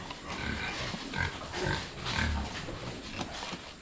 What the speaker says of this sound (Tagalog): Matimbang ang baboy pag ganyan.